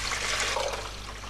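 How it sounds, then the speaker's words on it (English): Water pours steadily into a bottle in a Tomb Raider level: a brief, continuous rushing, gurgling fill that is moderately loud and heard alone. "And now the bottle is filled with water."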